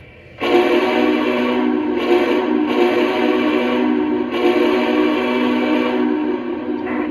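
A loud, close steam whistle from a Lionel Legacy Union Pacific Big Boy 4014 model locomotive blows in several sustained blasts with short breaks between them, steady and shrill, with no talking.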